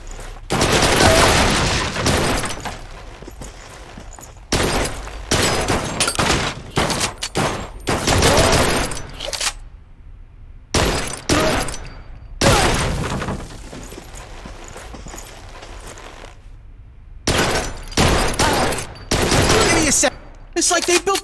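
Heavy bursts of gunfire in the action video game Blue Estate, loud and close, coming in dense volleys broken by short silent pauses, with occasional booming impacts.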